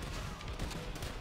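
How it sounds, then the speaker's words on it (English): Enemy gunfire in the World War II shooter World at War, a dense, steady clatter of shots running throughout the short moment at a fairly even loudness, with no talking. "This guy was firing at me right here."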